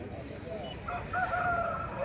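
A rooster crows at a weekly village chicken market in Mamidada, a faint, drawn-out call rising over low background market noise and murmur.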